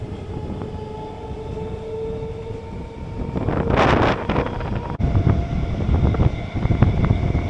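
Local train departing Dankuni rumbling along with steady low-frequency roar, a surge of rushing noise and clatter midway, then continued rolling sound with wind buffeting.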